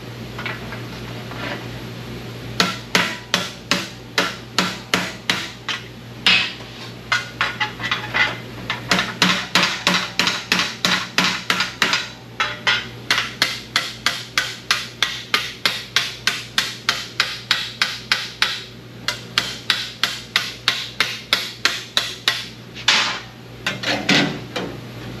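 Repeated hammer blows ring on sheet metal of a 1956 truck's rear fender during rust repair, in quick rhythmic bursts with brief pauses between runs, close and loud, with no talking.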